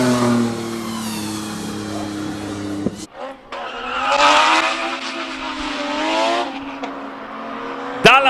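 A Porsche GT3 race car pushes hard on a Cape Town hillclimb, its engine revving loudly through gear changes with sharp shifts and a sustained high-pitched wail, close by, with a brief burst near the end.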